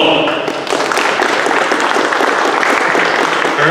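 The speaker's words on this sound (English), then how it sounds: "round of applause for Dave Hall." A conference crowd gives speaker Dave Hall a round of applause, loud and close, with a brief dip just after the start before the clapping settles into a steady roar.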